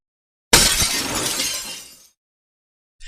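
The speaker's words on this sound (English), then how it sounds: "Sounds of more broken glass." Glass shatters and breaks in one loud, bright crash that rings out for about a second and a half, then cuts to silence, with a brief clink at the very end.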